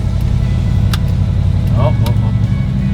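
An old pickup being eyed as a shop truck runs at a steady idle, a close, even low engine rumble with muffled voices faintly over it.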